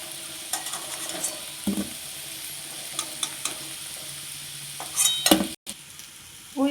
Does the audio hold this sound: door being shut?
no